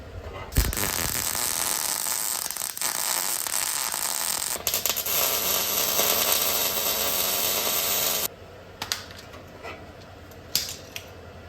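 Welder laying beads along unfinished seams inside a Toyota Tacoma bumper, a loud continuous crackling hiss for about eight seconds with brief breaks, then quieter clicks and handling sounds.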